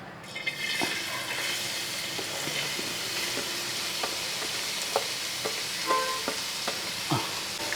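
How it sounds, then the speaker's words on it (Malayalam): Chopped carrots and beans fry in hot ghee in a pan, a steady close sizzle with occasional soft stirring taps and clicks, no one speaking. "ഈ നെയ്യ് നല്ലപോലെ ചൂടായതിന് ശേഷം നമ്മൾ നേരത്തെ അരിഞ്ഞു വെച്ച ക്യാരറ്റും ബീൻസും എല്ലാം കൂടെ ഒന്ന് ഇട്ട് കൊടുക്കും"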